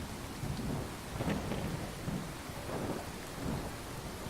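Heavy rain pours steadily as rolling thunder swells in low rumbles several times, a dense, loud storm wash with no voices.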